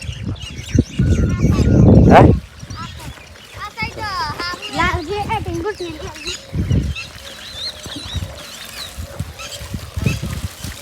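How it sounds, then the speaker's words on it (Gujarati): Birds chirp and call near a pond, with a loud rustling burst early on, then a busy, continuous twittering and some honk-like calls underneath talking voices. "તો આ બાજુ બધા પક્ષીઓ છે"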